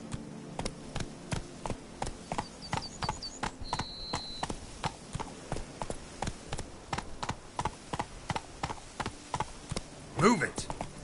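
Hoofbeats of the horse Roach galloping in The Witcher 3: Blood and Wine, a steady rhythmic clip-clop close by, with a brief voice near the end.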